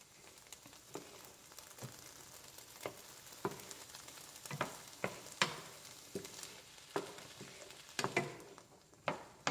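Chopped vegetables sizzling and frying in a pan as they brown for a baked lasagna, with a steady crackle broken by sharp stirring scrapes and clatters at irregular intervals, fairly close and moderate in level.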